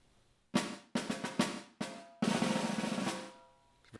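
Snare drum with a short concert hall reverb and no pre-delay, played alone: separate crisp hits and a brief roll, each followed by a slight, quickly fading ambient tail.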